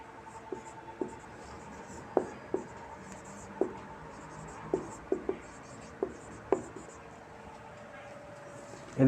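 Chalk or marker taps and scratches on a board in short, irregular strokes, close by and moderately loud, with a faint voice in the background.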